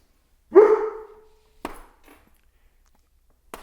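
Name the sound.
dog barking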